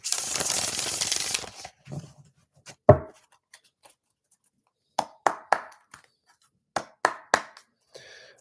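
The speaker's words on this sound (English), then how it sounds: "let's go through a quick shuffle here" Tarot cards being shuffled, a brief riffle of papery rustle at first, then scattered soft taps and slaps of cards being cut and set down in small irregular bursts, close and fairly quiet.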